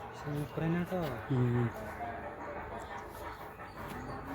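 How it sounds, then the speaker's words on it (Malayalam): Puppies whimper in a few short, high, wavering whines early on at a temple set beneath a rocky hill, then fall quiet, with a steady background murmur. "നായ്ക്കുട്ടികൾ കണ്ടില്ലേ ഇവിടെ."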